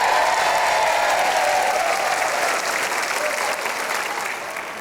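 A studio audience at a dangdut koplo show breaks into loud, sustained applause and cheering, a dense wash of clapping that fades slightly toward the end.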